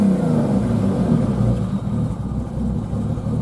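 A 1990 Jeep Cherokee Laredo XJ trail Jeep with a running issue idles and revs with a low, steady rumble, close by, the engine note rising and falling slightly with no talking.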